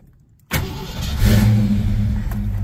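A muscle car engine, a Fox body, cranks after a short silence, fires up and settles into a rough, rumbling idle, loud and near with no talking.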